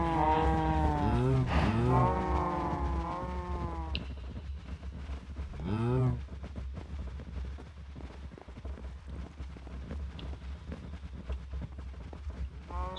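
Cattle mooing in Minecraft Bedrock, a few long, loud lowing calls over a steady low hum and soft shuffling, no voices.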